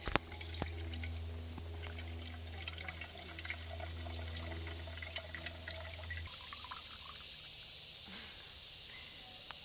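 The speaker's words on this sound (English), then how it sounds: "we're gonna have to pour in 473 milliliters of water" Stream water poured into a camping pot outdoors, a steady liquid trickle with drips running under a low constant hum that cuts out partway through, leaving the flow and a faint outdoor wash.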